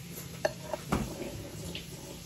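Almond milk being whisked in a bowl by hand, faint light clinks of the whisk against the bowl, a few sharper taps among soft stirring, quiet and close.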